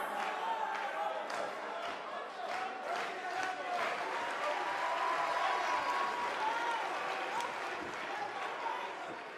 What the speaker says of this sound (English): Sounds like this crowd is ready.